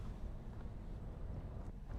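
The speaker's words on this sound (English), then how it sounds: "I'm definitely not going out there in the wind" Strong wind outside buffeting the microphone in a low, steady rumble with no distinct events, on a road trip stop.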